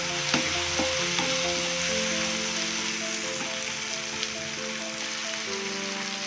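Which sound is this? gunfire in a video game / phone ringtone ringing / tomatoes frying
tomatoes frying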